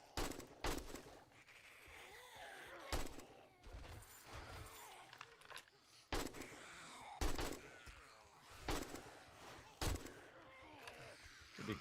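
Bursts of gunfire in the survival game 7 Days to Die, several sharp loud shots spaced irregularly across the stretch over a low steady background, with no talk.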